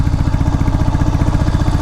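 A heavily loaded Royal Enfield Bullet motorcycle labours on a road, its engine beating in a steady, deep pulse with a slight rise in effort. The sound is close and loud, with nothing else over it.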